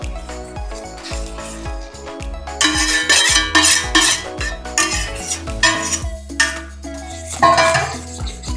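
A spoon stirs milk and china grass together in a pan while making raw mango pudding, giving close, repeated scrapes and metallic clinks that come in irregular bursts.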